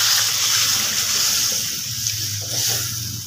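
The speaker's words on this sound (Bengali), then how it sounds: "জল দিয়ে দেবো।" Water pours steadily into a cooking pot of potato curry with mutton mince, a close, continuous splashing gush that eases slightly partway through, with no talking.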